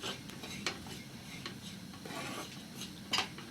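Coconut and chilli powder roasting in a pan for a traditional Kerala chutney powder, stirred steadily with a spoon that scrapes and clinks against the metal, with a faint dry sizzle underneath.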